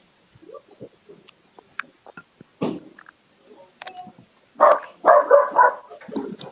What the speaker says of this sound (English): Oh, we got dogs here too.